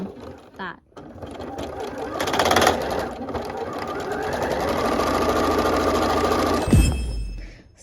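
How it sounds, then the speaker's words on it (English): A sewing machine hems a Princess Peach cosplay dress in a loud, steady whirring run of several seconds, ending in a sharp mechanical stop, with a voice heard briefly before the stitching. "I just restrung it inside the machine, and now it works like a charm."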